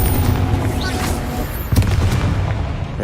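Confringo fire spell in the Hogwarts Legacy video game exploding in a tomb with a deep booming blast, a second heavy burst partway through over rumbling background.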